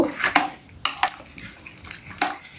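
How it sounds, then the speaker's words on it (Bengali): Pineapple and fruit custard mixture stirred in a bowl, with scattered soft wet clinks and scrapes of a spoon against the dish, close and fairly quiet. "এখন আমি এটাকে নেড়ে চেড়ে মিক্স করে নিব।"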